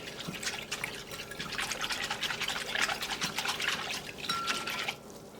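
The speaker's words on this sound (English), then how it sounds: "But we're going to add in the water." Half a cup of water splashes and trickles steadily into a container, a close, continuous pouring sound that stops abruptly near the end.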